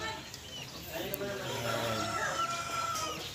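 Mixed-breed heritage chickens in a barn, a rooster crowing once amid soft clucking, fairly faint and close, with someone talking nearby.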